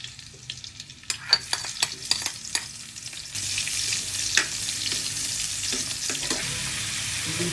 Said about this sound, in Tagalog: Igigisa lang natin.